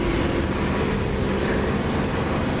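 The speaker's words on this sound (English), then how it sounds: "I'm using the Echo 19 Spitfire engine sound" Spitfire engine in the DCS flight simulator heard from inside the cockpit with the canopy closed, a steady muffled low droning roar that holds constant and fills the clip without any talking.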